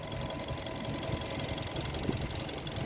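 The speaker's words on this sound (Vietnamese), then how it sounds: "Máy vẫn đang nổ đấy, êm không?" A 2015 Mazda2 with a 1.5-litre engine idles steadily at close range, a smooth continuous hum with a faint rhythmic ticking underneath and no talk.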